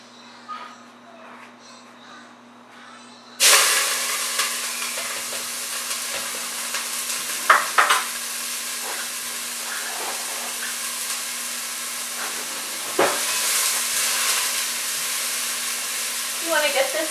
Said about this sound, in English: I'm going to start sauteing up my onion